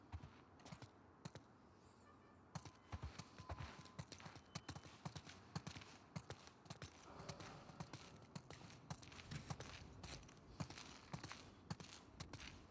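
Horses walk across the ground in The Last of Us Part II, their hooves clip-clopping in a steady, uneven patter close by at low volume with no talking.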